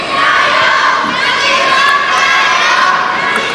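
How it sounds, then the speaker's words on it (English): Arena fans, including girls shouting for Zhang Jike, cheer loudly at the 2014 China Open men's singles table tennis semifinal between Xu Xin and Zhang Jike, a close, continuous swell of high-pitched chanting and yelling. "The girl fans on the other side of the arena cheering for ZHANG Jike."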